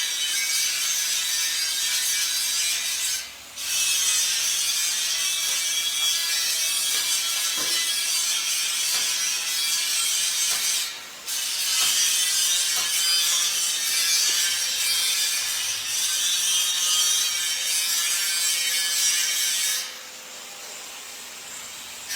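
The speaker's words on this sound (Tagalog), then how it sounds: "mayroon tayo ditong electric hollow block machine natin" An electric hollow block machine runs loud and close with a steady grinding, rattling mechanical roar, briefly dipping twice before settling into a quieter hum at the end, with no voices.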